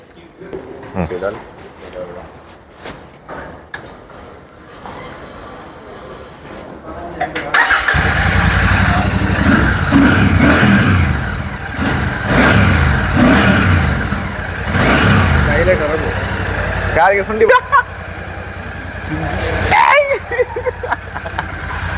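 A Royal Enfield Classic 650 parallel-twin engine fires up partway through, then idles and revs loudly up close in several rising bursts, with someone talking before and over it.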